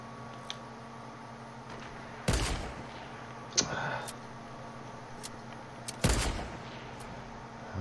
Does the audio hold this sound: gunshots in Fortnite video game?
yes